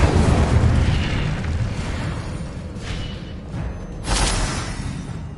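An Incendio fire spell cast in a PS4 video game bursts out as a rumbling, booming whoosh over steady game background noise, with a second, sharper flare of fire near the end.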